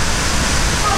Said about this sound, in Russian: Вот они, эти каскады, перепады высот из дикого камня с водопадами.